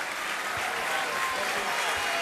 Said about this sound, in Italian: tra gli applausi dei suoi ex tifosi molto sportivi